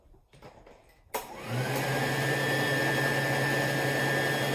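A steady, loud motor roar with an airy rush starts abruptly after a quiet moment and keeps running evenly, like a hood hair dryer blowing close by.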